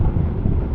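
Heavy low wind buffeting roars steadily across the microphone while riding a Honda Super Cub C125 in Tokyo, a dense continuous rumble with no voice.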